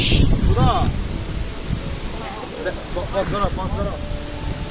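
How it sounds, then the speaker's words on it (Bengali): Strong wind rushes across the hills as a close, steady hiss, while a person talks over it. "প্রচুর পরিমাণে বাতাস হচ্ছে।"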